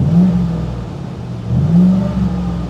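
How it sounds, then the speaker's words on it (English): A Pontiac G8 engine revs up twice through the exhaust, a deep throaty rumble rising and falling, close by with no talking. "Nice deep tone to that exhaust."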